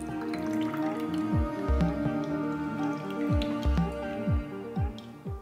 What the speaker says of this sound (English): Pour out the chickpea water and save for other recipes.